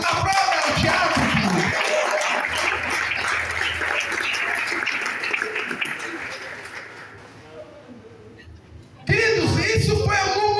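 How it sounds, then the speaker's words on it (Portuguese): A church congregation applauds during a Portuguese-language sermon: sustained, dense clapping that gradually fades, then a voice speaks loudly at the end. "Aplauda o Tiago."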